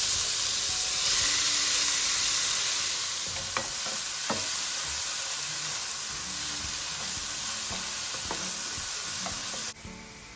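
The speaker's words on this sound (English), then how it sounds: "Let them sizzle up, and then goes in our chopped up onions" Cumin seeds and chopped onions fry in a pan with a loud, steady sizzle and hiss, broken by occasional clinks of stirring, and the sizzling eases toward the end.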